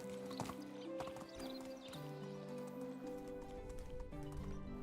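Horse hooves galloping in the medieval survival game Medieval Dynasty, a steady clip-clop rhythm close by with occasional snorts and whinnies, alone without talk.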